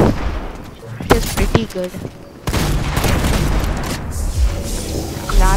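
Sharp shots crack out in several quick bursts from a lock-on pistol in a video game, with someone talking over and between them.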